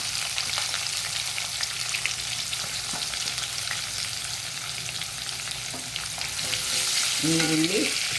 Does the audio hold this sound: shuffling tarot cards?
no